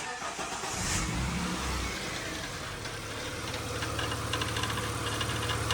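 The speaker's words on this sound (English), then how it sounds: "So we have a noisy tensioner." A Ford BA Falcon engine runs with a steady droning hum and a faint ticking, rattling noise from a faulty belt tensioner in the engine bay, continuous and fairly close, with no talking.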